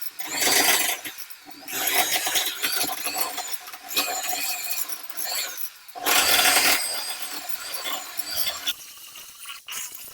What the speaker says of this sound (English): I'm going to run the Sawzall again this way and just gouge out a few spots.